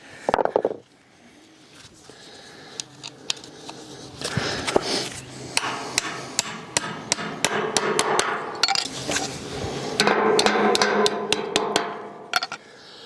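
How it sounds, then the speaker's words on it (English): Sharp, repeated hammer strikes driving nails into a steel barn frame ring out in irregular bursts, some in quick runs, loud and close, with a few quieter knocks between. "hammer those in with the nail in"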